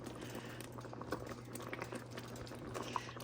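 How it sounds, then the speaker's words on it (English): Peach jalapeño jam at a full rolling boil bubbles and pops steadily in the pot at close range, a soft continuous patter of bursting bubbles beneath a low hum, with no talking. "Bring it back to a full rolling boil,"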